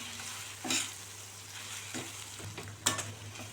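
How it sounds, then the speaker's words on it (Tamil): Brinjal sautéing in a pan with asafoetida and turmeric, a steady sizzle and fry under a low hum, broken by a few scraping stirs of a spoon against the pan. "கொஞ்சமாக பெருங்காயத்தூள், கொஞ்சமாக மஞ்சத்தூள் சேர்த்து நல்லா இந்த காயோடையே வதக்கி விட்டுக்கலாம்"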